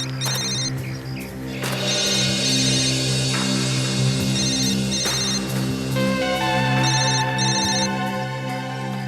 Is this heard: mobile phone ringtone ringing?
yes